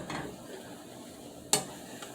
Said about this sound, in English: I'm gonna let these continue to melt. Keep stirring it, stirring it.